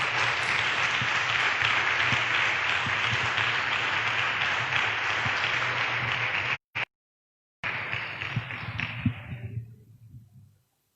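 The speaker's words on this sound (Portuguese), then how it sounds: "Dê um aplauso ao nome de Jesus" Church congregation applauding during a Portuguese-language worship service, sustained loud clapping from a large crowd that briefly drops out, returns, and tapers off into a faint room tail.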